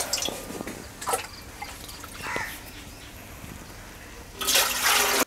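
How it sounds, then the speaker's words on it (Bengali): Water poured into a cooking pot for making lemon rice, heard as splashing and trickling with intermittent drips, ending in a louder, steady gush of pouring. "লেমন রাইস করার জন্য ভাতের জল দিয়ে দিচ্ছি।"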